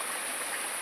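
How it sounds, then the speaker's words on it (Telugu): Water streams down a rocky hillside at the Ramagundam waterfalls, a steady broadband hiss and rush with no break, even and fairly close throughout the short stretch. "పై నుండి వాటర్ వస్తున్నాయండి కొండ మీద నుండి."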